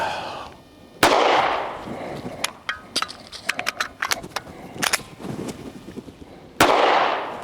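HK CC9 pistol shots during a dot torture drill, a single loud close shot, then a quick irregular string of sharp reports, then another lone shot at the end, with no talking.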